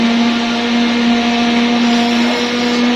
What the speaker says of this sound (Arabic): بتشتغل في الخلاط